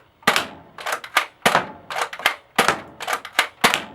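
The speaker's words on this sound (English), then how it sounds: "So I'm going to fire it off," Nerf Elite Strongarm dart blaster firing repeatedly, a series of about nine sharp, close snapping shots with priming clacks in an uneven rhythm, no talking.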